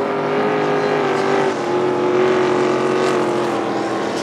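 4.2-litre displacement racing powerboats roar past at a race in Paynesville, a loud, sustained engine drone with a steady whine that shifts slightly as the boats go by.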